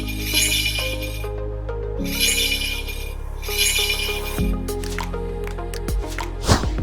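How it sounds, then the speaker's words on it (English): Ice cubes drop into a cup of Hong Kong-style iced lemon tea, giving a few crackling, squishy bursts and sharp clinks near the end, all under steady background music. "Add ice."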